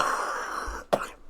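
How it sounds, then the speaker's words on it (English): A sick person hacking and clearing their throat, one long rasping throat clear followed by a single sharp cough, close and loud. "Forgive me for hacking and coughing in your ear."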